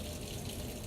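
Water poured out of a cooking pan holding seasoned chicken, a steady close splashing gush lasting under a second with no pauses.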